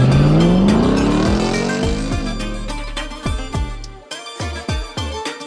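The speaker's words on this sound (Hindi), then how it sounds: "this is the first car जो कि जा रही है क्वालिफाइंग के लिए" A rally car pulls away loudly for qualifying at the Sarfaranga Cold Desert Rally 2023 in Pakistan, its engine climbing in pitch through the gears, then popping and revving in bursts as it moves off.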